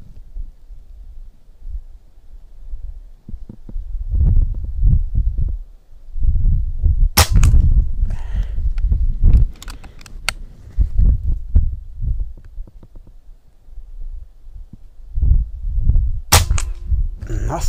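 A series of gunshots fired outdoors in strong wind, with sharp cracks spaced irregularly among heavy low wind rumble, no talking.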